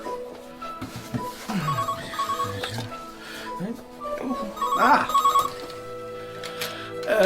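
A telephone bell rings in repeated bursts inside a home, sounding over background music and a voice.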